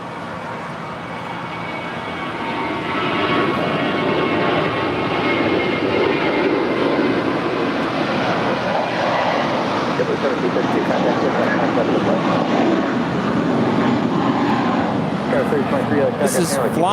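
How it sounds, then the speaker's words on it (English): Seven-year-old JetBlue Airways Airbus A321 departing LAX for Salt Lake City, its engines building from a quieter start into a loud, steady roar that holds to the end, heard at a distance. "This is Fly in mint condition, departing to Salt Lake City, flight 1732 with JetBlue Airways. It's a 7-year-old Airbus A321."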